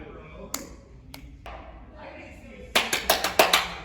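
Hand claps go off near a small terrain-reactive robot: a few isolated sharp snaps, then a quick run of about six loud claps close by, over a faint background hum.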